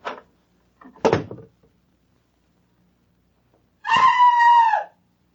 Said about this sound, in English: would you mind going back into the bathroom and closing the door behind you? Then scream as loudly as you can.